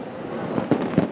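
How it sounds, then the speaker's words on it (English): Fireworks going off at a BPL 2024 cricket match between Khulna Tigers and Sylhet Strikers: three quick popping bursts in just over a second over a steady crowd-like wash, fairly distant. "Fireworks go off."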